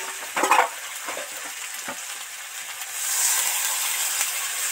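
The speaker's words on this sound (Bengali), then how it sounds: "এবার এর মধ্যে জল দিয়ে দেব।" Water is poured into a pan of frying potatoes and spices for a lentil fritter curry. A few sharp splashy bursts are followed by a steady sizzle and hiss that swells louder partway through.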